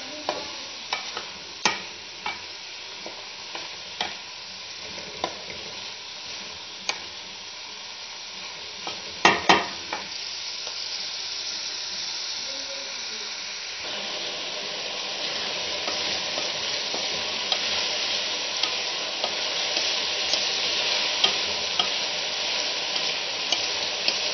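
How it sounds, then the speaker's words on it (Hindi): Onions browning in a pan over medium-high heat, a continuous close sizzle with regular sharp taps and scrapes of a spoon stirring, growing denser and louder toward the end. "प्याज हमारे ब्राउन हो रहे हैं"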